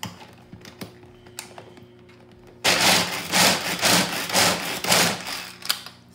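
A hand food chopper chops peanuts with a quick run of loud, rhythmic rattling strokes, about five, that start abruptly after a few seconds of quiet background.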